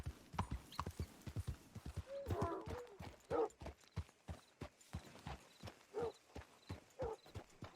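Hooves clip-clop at a steady walking pace in Red Dead Redemption 2, close and even, with a horse snorting now and then between the beats.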